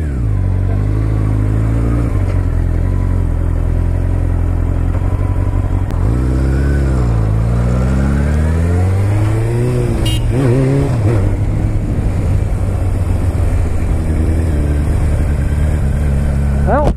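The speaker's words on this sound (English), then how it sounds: "that was a BSA test ride" A 1953 BSA motorcycle idles with a steady thump, then revs and pulls away with rising and falling engine pitch that fades into the distance, all fairly loud and close, with a voice briefly present.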